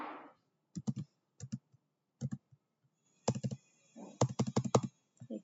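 Short bursts of clicks from a computer keyboard, struck in small clusters with pauses between, with a faster run near the end, close and quiet in a still room with no speech.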